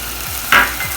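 Onions, tomato, salt, green chilli and curry leaves being stirred and sautéed in a pan for egg kuruma, with a brief scrape of the spoon and a soft sizzle over a steady hiss, heard alone.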